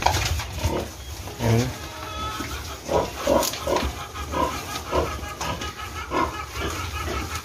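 Pigs grunting and snorting close by as they eat sweet potato peelings and feed at a farm, a run of repeated low grunts in an uneven rhythm with no talk.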